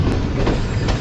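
A train rumbles past close by on main line 2 at a station, a dense, loud roar of wheels with faint clicking over the rails.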